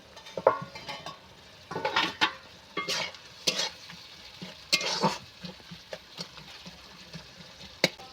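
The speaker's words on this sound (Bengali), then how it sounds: "মশলাটা আমি ভালো করে কষিয়ে নেব" Masala paste for chana masala, loosened with a little water, is stirred and fried in a pan, giving repeated bursts of scraping and sizzling separated by short quieter pauses.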